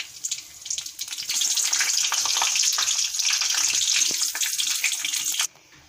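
Whole cardamom pods, cloves, cinnamon and bay leaves frying in hot oil for a Bengali chicken korma, a loud steady crackling sizzle that cuts off abruptly near the end.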